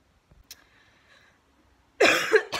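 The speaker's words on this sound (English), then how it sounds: "I would cough as soon as I turn on the camera" A single harsh cough bursts out near the end after near silence, preceded by a faint tone and soft shuffling.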